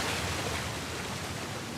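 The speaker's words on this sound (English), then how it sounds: "Another waterfall." A waterfall in the video game Uncharted: The Lost Legacy roars as a steady, dense, even rush of falling water, unbroken throughout.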